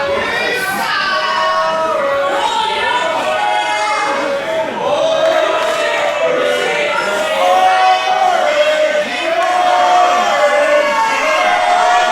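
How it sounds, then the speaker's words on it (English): A wrestling crowd at a live independent show yells and jeers at a wrestler in the ring, a dense, steady wall of shouting voices with whoops and cheers rising throughout the whole stretch. "Crowd letting their opinions heard about the Machine."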